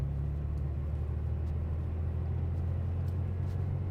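Classic 1980s air-cooled Porsche 911 engine heard from inside while driving, a steady low rumbling drone with a constant even tone and no speech.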